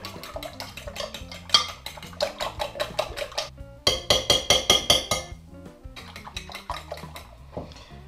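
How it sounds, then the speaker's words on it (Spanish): A whisk or fork beats six eggs in a bowl for a Spanish potato tortilla, making quick, steady clinking strikes against the bowl, close and fairly loud, with a brief pause midway before the rapid beating resumes. "Vamos a batir los huevos."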